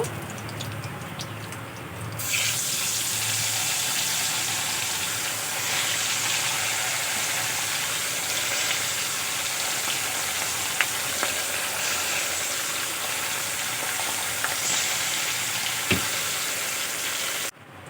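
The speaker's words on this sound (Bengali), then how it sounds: "বাকি মাছগুলো একইভাবে ভেজে নেব।" The rest of the rohu or catla fish pieces sizzle in hot oil in a pan, a steady, close crackling hiss that starts after a brief quieter moment and holds evenly, with a few small pops and clicks.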